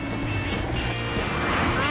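A car driven fast by a hurried driver, a continuous broad roar of engine and road noise throughout, with a voice briefly audible over it.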